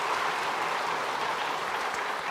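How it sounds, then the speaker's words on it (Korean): Standing congregation at a Sunday worship service clapping in welcome for newcomers, a dense, even patter of applause that holds steady throughout at a moderate distance. "다 같이 박수로 환영하도록 하겠습니다"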